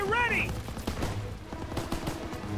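Call of Duty WWII battle against a machine gun bunker: rapid, dense bursts of gunfire crackle continuously at moderate distance, with a rising whistle at the start and shouted voices mixed in.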